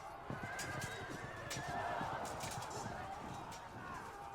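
A horse whinnies in the medieval strategy game Field of Glory II: Medieval, a fairly quiet neigh with a hint of hoofbeats and battle noise behind it.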